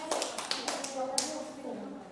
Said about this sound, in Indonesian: tepuk tangan untuk semua kelompok yang udah presentasi hari ini